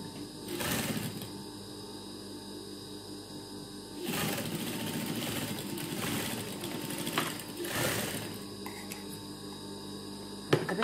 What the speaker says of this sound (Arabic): غادي نخيط الجهه الاخرى